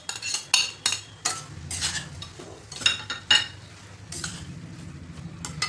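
A spoon stirs coconut rice with fried coconut and dry fruits in a pot, with repeated scraping and clinking strokes against the metal, close and fairly quiet, and no talking.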